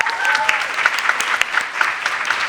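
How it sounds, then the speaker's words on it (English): A seated audience at a panel session on mental health applauds the panelists, a brief burst of close, crisp claps with faint crowd murmur beneath. "Let's just give one more round of applause."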